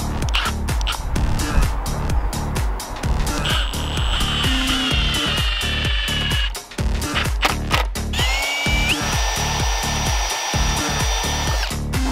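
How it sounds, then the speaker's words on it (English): A power drill pre-drills holes in timber screening rail, with bursts of high motor whine and grinding bite into the wood separated by clattering handling noises, all close and loud with no talk. "We always like to pre-drill, I just hate splitting timber."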